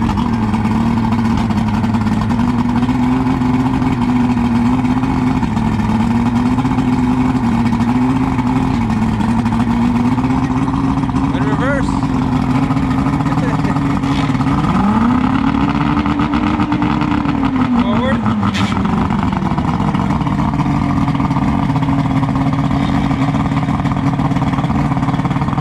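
A 1998 Johnson V6 Venom two-stroke outboard engine runs steadily close by, a loud continuous drone whose pitch rises and falls once partway through as the throttle is opened and eased back.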